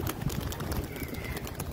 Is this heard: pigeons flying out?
yes